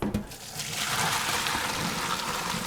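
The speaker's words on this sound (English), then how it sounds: "Time to drain the beans." Boiled green beans poured from a pot into a strainer, a steady rush of draining water and splashing that runs loud and continuous for a few seconds.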